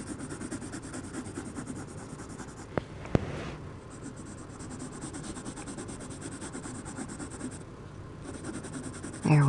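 A colored pencil scratches back and forth on paper in close, rapid, rhythmic strokes, continuous with a few short pauses, with no speech over it.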